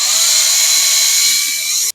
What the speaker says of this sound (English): I'll be drilling from the back, just in case I damage anything.